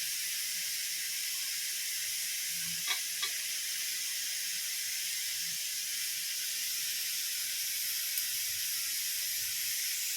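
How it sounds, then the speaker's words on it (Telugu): Fried prawns go into a hot pan for prawn dum biryani, giving a steady, even sizzle with a couple of faint clinks of stirring and no voices. "ఇప్పుడు ఇందులో మనం ఫ్రై చేసుకున్న రొయ్యలను వేసుకోవాలి."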